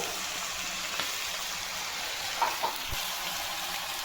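Garlic paste and spices sizzle steadily in a hot pan, an even, close frying hiss with a few faint pops and clinks, and no talking over it.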